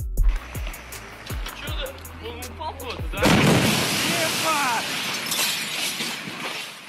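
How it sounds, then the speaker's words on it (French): A few sharp clicks, then a sudden loud boom from an asteroid exploding in the sky, arriving as a shock wave that swells into a sustained roaring rumble for several seconds. "90 secondes après l'explosion dans le ciel, l'onde de choc arrive"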